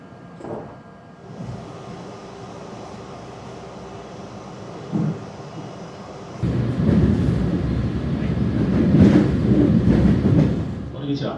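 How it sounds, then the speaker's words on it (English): A regional rapid train pulls into a station in Japan, a low rumble swelling into loud rolling wheel and motor noise as it arrives, with a voice heard briefly near the start. "the train is here awfully fast."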